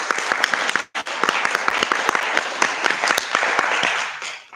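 Audience applause at a sixth-grade History Bowl match, greeting the third-place school team: steady, dense clapping from a room of people, loud and sustained, with a brief dip near the start before picking back up and fading at the end.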